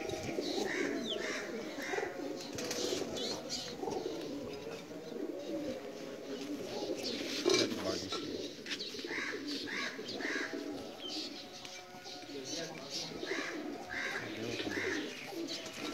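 Pakistani pigeons coo softly and repeatedly in an enclosure, with low throaty calls overlapping throughout and faint chirps and background murmuring.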